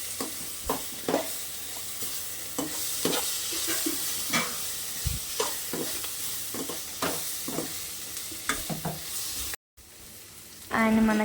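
Masala powder being stirred into gobi fried rice frying in a pan, with a steady sizzle under repeated scraping strokes of a spoon, close and fairly quiet.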